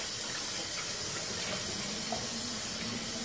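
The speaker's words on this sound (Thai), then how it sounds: "ก็จะมาล้างน้ำเย็นธรรมดานะคะ" Cold tap water runs steadily into a kitchen sink as pork intestines are rinsed, a constant close hiss and splash with faint shifting under the flow.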